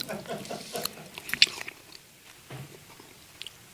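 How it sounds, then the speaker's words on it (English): Someone biting into and chewing an apple close to the microphone, with a sharp crunchy bite followed by wet, irregular chewing that fades into quieter mouth sounds. "Can we hear me chewing?"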